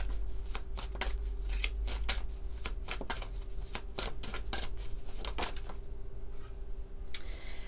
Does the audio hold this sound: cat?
no